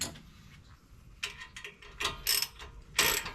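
A ratchet tightening an axle bolt on a Land Rover Discovery 2, giving a few short bursts of close metallic clicking with faint noise between the strokes.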